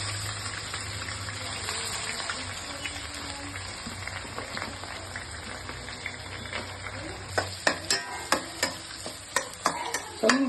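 Onions frying in a pan for vangi bath, browning: steady close sizzle throughout, with a series of sharp stirring scrapes and clacks of a spoon against the pan in the last few seconds.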